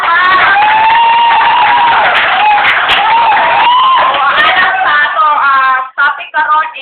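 A school audience of students loudly applauding, cheering and whooping for their class adviser, a continuous roaring wall of clapping and shouts that breaks into scattered yells near the end.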